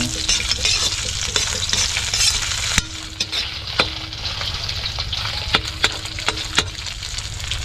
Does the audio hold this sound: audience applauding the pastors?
no